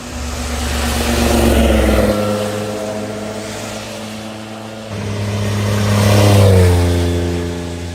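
A Porsche race car at the Tour Auto road rally revs loudly nearby, two rising engine surges with a brief lull between them.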